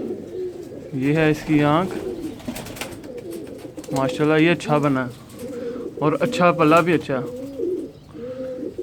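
Pigeons in a netted breeding cage coo in soft, repeated rounds, close by, with someone talking over much of it.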